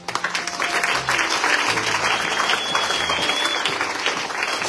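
A church congregation claps together during a French-language worship service, a steady, dense wave of applause filling the room, close and loud, with no voices over it.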